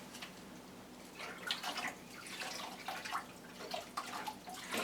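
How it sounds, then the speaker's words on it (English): Water is poured over potted orchids and their aerial roots, giving an uneven splashing and trickling with soft drips that rise and fall close by, and no talking. "I make sure the aerial roots get lots of water poured over them so that they darken up."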